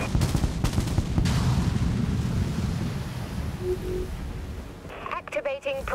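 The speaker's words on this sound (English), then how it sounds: "Activating primary weapons, Captain." Primary weapons and torpedoes fire from a capital ship in the Dreadnought game, a dense rumbling barrage of booms and blasts, with electronic tones and a voice cutting in near the end.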